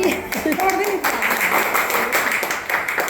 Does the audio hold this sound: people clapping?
yes